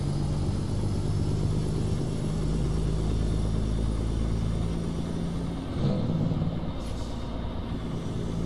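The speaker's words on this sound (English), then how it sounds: "the sound that you hear is the sound that came with the truck" Stock truck engine in American Truck Simulator, a steady low diesel drone with a hiss of air and road noise running continuously, a brief air-brake-like whoosh near the end.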